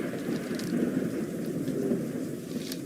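Steady rain with low rumbling thunder plays as a Halloween ambient soundtrack during a diamond art live stream, a continuous even wash of rainfall with a deep rolling undertone and no talking.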